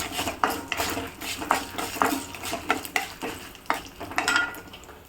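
Onion with urad dal, dried chilies and garlic is stirred in a pan for carrot chutney, a steady faint sizzle broken by repeated clinks and scrapes of a spoon against the metal, close by and with no talking.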